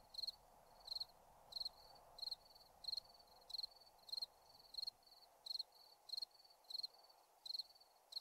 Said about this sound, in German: Hier gibt es wirklich so einen Grillenzirpen.